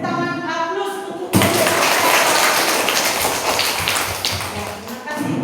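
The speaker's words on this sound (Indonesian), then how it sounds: "Kita beri dulu tepuk tangan aplaus untuk" A class of students applauds together in a classroom, a dense and loud burst of clapping that starts abruptly after a teacher's voice and carries on steadily for several seconds.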